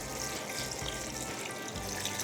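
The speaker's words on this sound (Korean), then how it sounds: "가지가 잠길 정도의 물을 부어주세요" Water is poured over eggplant in a bowl, a continuous close trickling and splashing that stays steady from start to finish.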